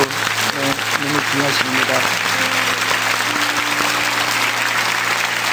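A church congregation applauds its teachers, loud sustained clapping from a large indoor crowd with a pastor speaking briefly over the start and organ or keyboard tones sustaining beneath.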